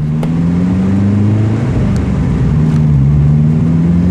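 A tuned VW Polo 6N engine running about 3 bar of boost holds a steady, loud drone on a dyno, its pitch wavering slightly as it revs, with no talking.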